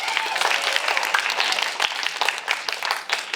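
An audience at a young playwrights' festival cold reading applauds a playwright, with dense, sustained clapping from a crowd close by that stays loud for the whole stretch.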